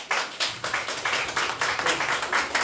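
A small live audience gives itself a round of applause, a quick rhythmic patter of nearby hand claps, fairly faint and steady, without voices.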